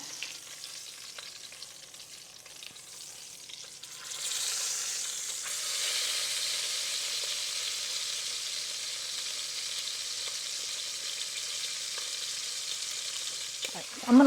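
Soy-braised brisket searing in a hot pan gives off a steady, broad sizzle that jumps louder partway through and holds as a continuous hiss to the end, with no talking over it.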